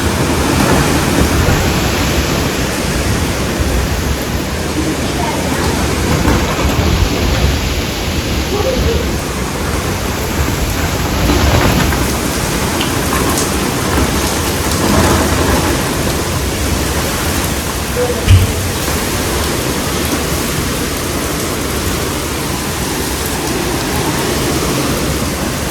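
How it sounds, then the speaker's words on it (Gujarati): Heavy rain pours down in a thunderstorm in Gujarat, a dense steady hiss of rainfall filling the clip, with low rumbles of thunder underneath and one brief louder thump near the end, with no clear speech. "વરસાદ તો જોવો તેને, વાવાઝોડું તો."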